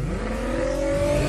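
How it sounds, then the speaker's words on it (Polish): Twin-engine Opel Calibra drag race car at an airfield strip, engines roaring loudly as it accelerates, pitch climbing steadily over a short burst. "Jego tsunami, bo tak właśnie brzmi ta kalibra"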